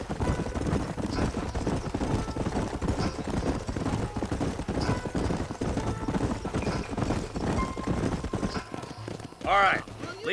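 Horses gallop in Red Dead Redemption, a dense, rapid clatter of hooves running steadily throughout under occasional distant gunfire, with a brief louder burst near the end.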